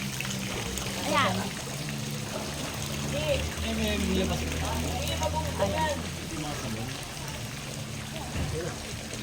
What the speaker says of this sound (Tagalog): Ito yung mga waterfall sa swimming pool dito.